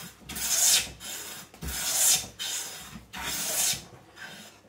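Hand plane with a cap iron, or chipbreaker, shaving wood: three rhythmic, close, hissing strokes, each a rising and fading rasp of the blade peeling a shaving, with brief pauses between them.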